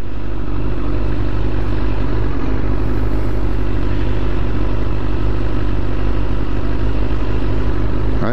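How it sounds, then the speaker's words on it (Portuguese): A motorcycle engine idles while warming up in city traffic. A loud, steady, close mechanical rumble with constant clatter runs unbroken throughout, with no talking. "Minha moto tem que esquentar um pouco o motor"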